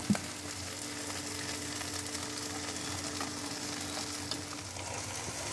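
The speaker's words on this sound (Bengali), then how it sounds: "এখন আমার এগুলো হালকা সতে করা হয়ে গেছে" Baby corn sautéing in a pan for crispy chilli baby corn, with a steady broadband sizzle and a low hum running throughout, a single sharp clink at the start and a faint knock near the end.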